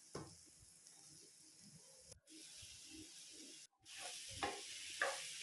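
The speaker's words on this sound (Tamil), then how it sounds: "இப்போ நம்ம கட் பண்ணி வச்சிருக்க காளான் இதில் வந்து சேர்த்துக்கலாம்." Mushrooms dropped into masala frying in oil in a pan, giving a faint, soft sizzle with light stirring and brief gaps between bursts.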